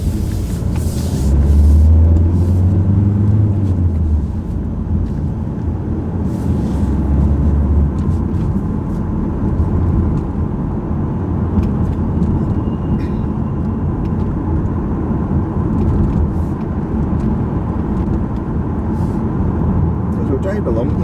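Car interior while driving along city streets, a loud steady engine and road rumble running throughout beneath a voice that keeps talking.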